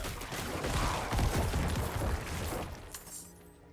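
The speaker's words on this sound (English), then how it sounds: "when that runs out, I just use Corpse Explosion." Necromancer Corpse Explosion bursts in Diablo 4 during a dungeon run, a dense, loud crackling barrage of overlapping blasts and shattering debris that fades slightly toward the end.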